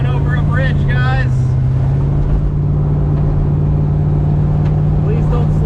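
Car cruising at full speed over a bridge, a steady loud engine and road drone with a strong low hum throughout, voices talking over it early on.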